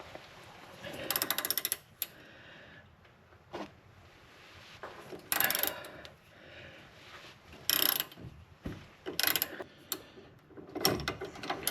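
Ratcheting wrench loosening an Allen head bolt on a Subaru Forester control arm and knuckle during teardown, with bursts of rapid clicking separated by pauses, close and moderately loud.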